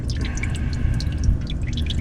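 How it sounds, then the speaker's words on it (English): Old engine oil drips from the drain of a 2015 Chevy Sonic during an oil change, a continuous close patter of liquid falling into a pan with no talking. "You'll know it's ready when it's like a slow drip, like very slow."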